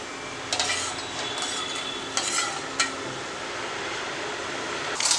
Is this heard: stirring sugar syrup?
yes